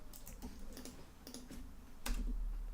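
Fingers tapping on a computer keyboard in short bursts of clicks, fairly close and quiet, with a louder flurry of keystrokes near the end and no talking.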